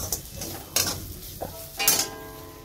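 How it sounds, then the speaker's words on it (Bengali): Potatoes fry in a home kitchen pan, a soft sizzle under a few distinct scrapes and clinks of a utensil against the pan, close and fairly quiet with no voices. "আলু ভাজা হচ্ছে"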